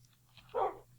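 A single short dog bark from Minecraft, a quiet game sound effect heard once against a faint low background hum.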